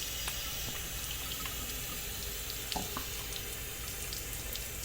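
Hands are washed under a steadily running tap, the water splashing continuously into a sink at close range with no voices.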